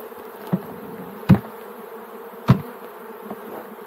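Honeybees buzz steadily while being shaken from a hive frame, a close, continuous hum broken by three or four sharp thumps as the frame is knocked.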